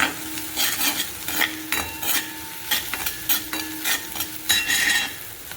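Sesame seeds and chillies dropped into hot oil with cumin and asafoetida, crackling and sizzling steadily while a spoon scrapes and stirs the pan in irregular bursts, close and clear with no talking.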